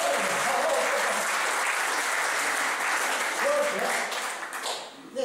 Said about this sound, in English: That was a very poor round of applause